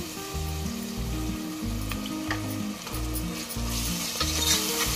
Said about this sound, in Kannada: ಈಗ ಶುಂಠಿ ಬೆಳ್ಳುಳ್ಳಿ ಪೇಸ್ಟ್ ಹಾಕ್ತಾ ಇದ್ದೀನಿ.